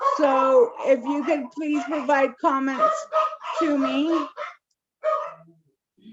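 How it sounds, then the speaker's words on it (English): A dog barks intermittently in the background of a committee meeting call, its yaps partly masked by a person talking over it. "I do apologize for the dog barking."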